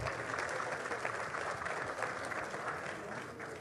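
Steady applause from a gala audience at a Polish motorsport awards ceremony for the national vice-champion, thick continuous clapping that fades slightly toward the end.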